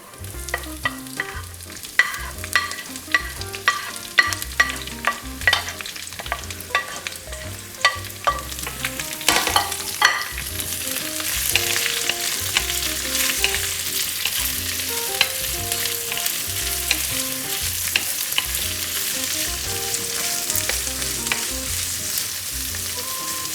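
Onions hit a pan of browned garlic for rajma, a dense continuous sizzle rising in intensity while a spatula stirs in quick regular scrapes during the first half.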